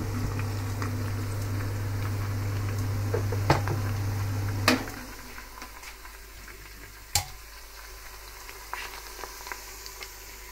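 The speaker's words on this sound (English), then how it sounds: "I'm going to saute onion until golden brown" Onions sautéing in a pan for a trotter paya curry give a soft, steady sizzle with a low hum, broken by a few sharp clinks of a spoon against the pan, quieter after midway.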